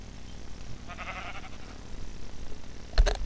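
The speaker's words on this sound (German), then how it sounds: "Oh, ein Schaf." A sheep in Minecraft gives a single short bleat, midway through a quiet stretch of game ambience. A sharp click or tap follows near the end.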